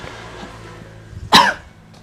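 A single harsh, persistent cough bursts out loud and close after a moment of near quiet, then fades quickly.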